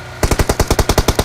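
A burst of about ten rapid, evenly spaced automatic gunshots rings out loud and close in a BGMI battle royale match, with no voices over it.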